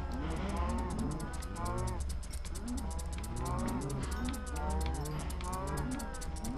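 Young calves moo repeatedly in overlapping, wavering calls, loud and close, over a constant low engine-like hum.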